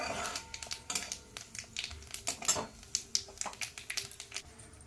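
Nigella seeds (kalo jeera) dropped into hot oil give off scattered sharp crackles and pops, faint and irregular, spaced unevenly across the moment.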